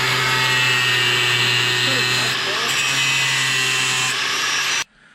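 A power tool cuts and trims a Westin Outlaw steel bumper on a Toyota Tacoma, a steady loud whine running for nearly five seconds, shifting pitch partway through before stopping abruptly.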